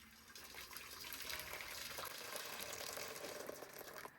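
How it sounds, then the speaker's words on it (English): Water is poured into a cooking pan in a home kitchen, a faint, steady gushing pour lasting a few seconds. "You want to pour all your water into your pan."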